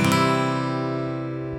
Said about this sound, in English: So the next chord is going to be C, and it's going to look and sound like this.